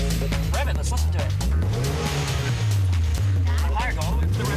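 Tuned car engine revving hard, its pitch climbing and falling in repeated swells with sharp hissy bursts like a blow-off valve, loud and close, while people talk over it.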